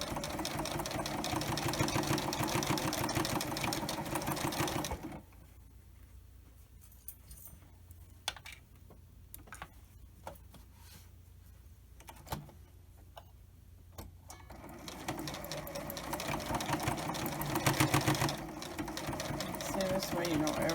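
A sewing machine chain-stitches fabric face masks one after another, a loud rapid mechanical whirr that runs for about five seconds, pauses with faint clicks and handling noises, then resumes steadily for the final stretch.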